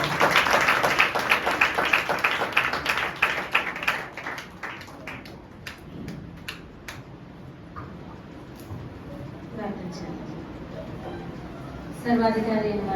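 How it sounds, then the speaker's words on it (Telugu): Audience applause at a church gathering, with a dense burst of clapping at the start that thins into scattered claps and fades while voices continue and music-like tones enter near the end. "చప్పట్లు."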